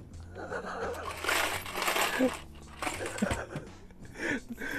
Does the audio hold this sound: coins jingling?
yes